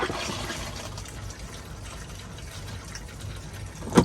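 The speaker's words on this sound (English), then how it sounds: "you pull this, it actually flushes. There's water that comes down right inside the black tank" An RV flushing toilet, with a pull lever sending water down into the black tank, gives a low steady trickling rush of water for several seconds, ending in a small clunk.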